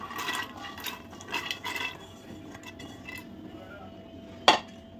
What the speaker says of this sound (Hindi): जिस पानी में भिगोया था उसी पानी के साथ कुकर में इसको ऐड करते हैं।